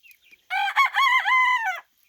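A young rooster crows once, close and loud, in a single strained, wavering call that lasts just over a second.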